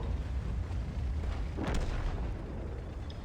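A tank cannon fires in World of Tanks from an IS-3A heavy tank: a single heavy blast midway through a loud, constant rumble of engine and battle noise, with no speech.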